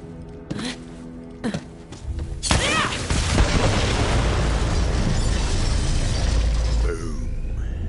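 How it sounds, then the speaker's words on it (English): A few sharp pops, then a big booming explosion from bombs in the video game Borderlands, echoing through a forest, followed by a long roaring, crackling rumble that slowly dies away. "The explosion echoed through the forest"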